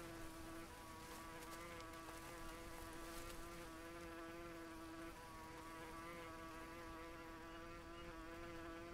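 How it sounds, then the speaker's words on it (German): Insects buzzing around a bee nest in the jungle survival game Green Hell, a steady, thin, tonal drone that holds evenly for the whole stretch with no voices. "hier ist irgendwo ein Bienennest."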